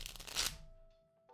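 Tarot cards shuffled by hand, a brief rustling riffle burst that ends abruptly and leaves near silence with a faint tone.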